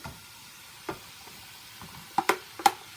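Chopped eggplant stalks land in a hot pan, giving a few sharp clicks and a faint low sizzle, with a cluster of quick taps near the end and no voices.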